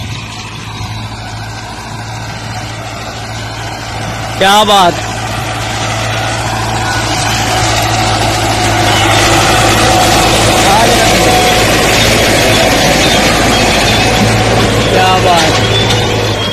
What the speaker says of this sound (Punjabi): ਹਲੇ ਚੈੱਕ ਕਰਦੇ ਆ ਟਰੈਕਟਰ ਦੀ ਜਾਨ ਤੇ ਡਿਸਕਾਂ ਦੀ ਤੇਰੀ ਕਾਰਗਰਦਗੀ